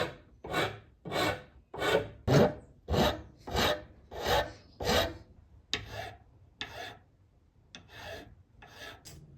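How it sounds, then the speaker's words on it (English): A wood file chamfers the faceted edges of a wooden handle for a forged chisel. Close, rhythmic rasping comes in about a dozen even back-and-forth strokes, tapering into a few slower, lighter passes. "Now I'm going to take a wood file and I'm going to chamfer all of the facets"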